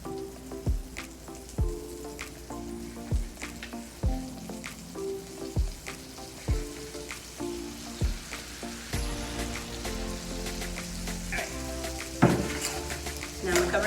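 Butter sizzles steadily on a grill while apple pound cake is being made, with a soft crackling hiss under repeated tapping and scraping sounds and a voice speaking now and then.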